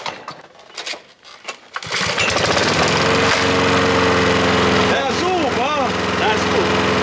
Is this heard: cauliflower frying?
no